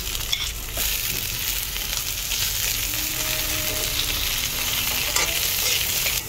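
Ginger, garlic and onion sizzle steadily in a pan with only a little oil, a continuous close hiss with faint stirring scrapes throughout.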